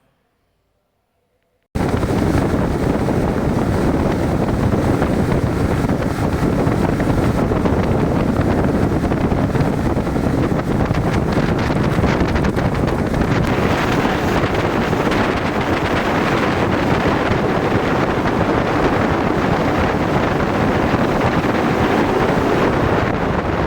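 A steady, loud roar of a speedboat engine and rushing water on backwaters, with wind buffeting the microphone, continuous after a brief silent start.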